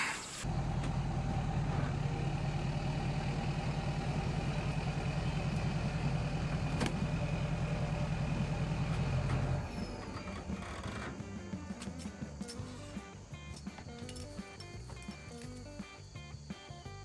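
A pickup truck idles close by while it is hooked up to a camper, a steady loud engine drone that drops abruptly partway through to a softer, busier rumble with scattered clanks.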